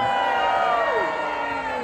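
Audience at a live holiday-camp show at Butlins Minehead cheering and whooping loudly, a dense sustained crowd roar with shouted voices and whistles throughout.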